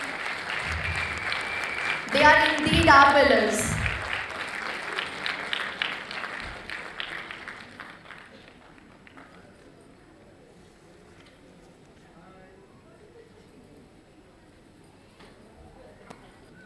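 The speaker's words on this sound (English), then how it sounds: "Let's give them a huge round of applause, everybody." A burst of audience applause and cheering rises early, swells, then fades into quieter room noise, with a voice speaking over it.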